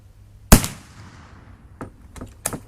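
A .308 rifle firing black powder ammunition outdoors: one sharp, loud report followed by a long decaying tail, then three fainter distant bangs near the end.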